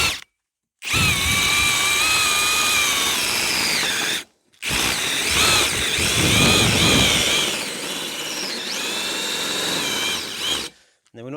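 A power drill with a diamond core bit whines steadily in two long bursts separated by a brief pause, grinding loudly with a rising and falling pitch as the bit bites.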